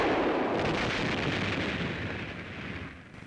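An M18 57mm recoilless rifle test-fired at a 4-inch concrete wall gives a single heavy boom that rolls out into a long, loud rumbling decay, with no talk over it.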